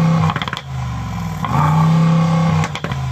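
A Mercedes SUV engine revs hard up close and bounces repeatedly off a soft rev limiter at about 4,000 rpm, giving a loud stuttering hold with a couple of pops in between the pulls.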